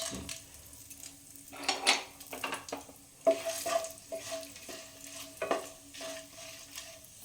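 Whole spices, cinnamon, cloves, cardamom, dried red chillies and peppercorns, sizzle in hot oil in a pan for dhaba-style paneer masala, with repeated scrapes and clinks of a spoon stirring, close and fairly quiet.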